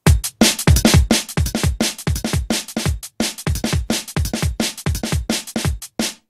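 A drum and bass beat assembled from clean single-hit drum samples, with punchy kicks, sharp snares and crisp hi-hats in a fast, rolling, tightly repeating pattern, loud and upfront with no voices.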